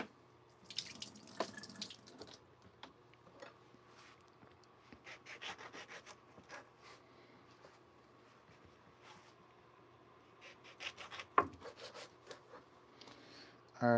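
Water trickles and splashes in a Japanese sink, faint and close, with intermittent rubbing and clattering handling noises breaking through at irregular intervals; nobody speaks.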